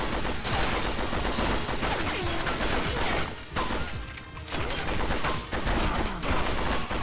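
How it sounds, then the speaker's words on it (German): Gunfire in the video game 007 Agent Under Fire: dense, rapid volleys of shots crackle loudly and almost continuously, with brief lulls between bursts. "Wenn dieser kleine Balken in der Mitte nicht meine Schüsse und Kugeln abfangen würde, wäre ich ja so glücklich."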